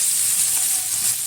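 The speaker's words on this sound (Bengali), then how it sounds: "এখন দিয়ে দেবো কুচিয়ে রাখা কিছুটা পেঁয়াজ।" Chopped onion fries in a pan with green chilli for egg chow mein, producing a close, continuous loud sizzle with faint stirring and no talk.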